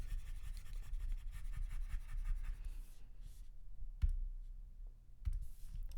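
Chalk or marker writing a chemical name on a board during a lecture, with scratchy strokes and light taps close by, interrupted by short pauses and a sharper knock.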